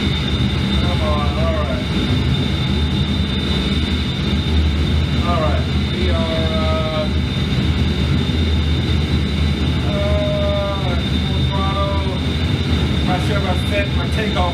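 An A-10C jet in the DCS flight simulator rolls down the runway for takeoff, its engine roar loud and steady throughout, with brief voice-like tones surfacing over it.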